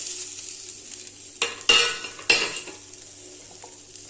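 Grated coconut and curry leaves sautéing in a pan, with a soft, steady sizzle and a few sharp spoon scrapes against the metal, heard close with no talking.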